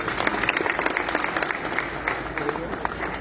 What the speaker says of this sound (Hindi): एक बार फिर जोरदार तालियां माननीय जी के लिए